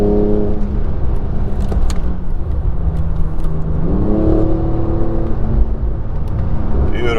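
Inside a 2021 Porsche 911 Turbo S driving a winding rally road, the engine hums and whirs loudly and continuously, rising in pitch as it accelerates and shifting through gears, with tyre and road rumble underneath.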